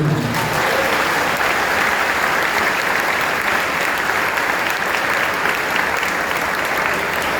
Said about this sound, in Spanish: Dese un aplauso